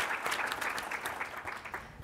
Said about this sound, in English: Please give a warm applause for Eduardo Martinez.